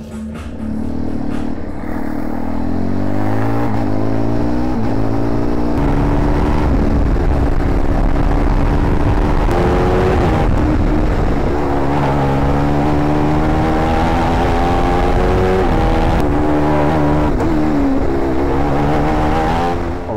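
Go-kart engines racing on new tires at TT Circuit Assen, several high-revving motors rising and falling in pitch, loud and continuous throughout with overlapping engine tones.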